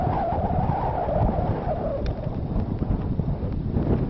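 Strong wind sweeps across an open ice field, a dense, rumbling roar buffeting close to the microphone with uneven gusts and no pauses.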